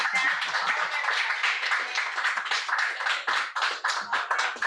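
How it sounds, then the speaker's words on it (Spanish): People gathered in person at a Spiritist centre clap together in a busy, continuous round of applause of crisp, close hand claps, with no talk over it. "que le regalen un aplauso a Martica, se la merece"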